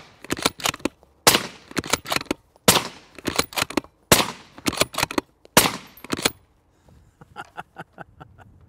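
Rifle in 6.5 Creedmoor fired through a Liberty Sovereign suppressor: a rapid string of loud, close, deep-toned suppressed shots in quick bursts, followed by a fainter, quicker series of pops.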